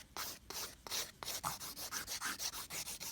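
A two-sided NSI Endurance Buffer sanding block of 180/240 grit rubs in quick, close strokes, about a dozen evenly spaced rasping passes in a steady rhythm.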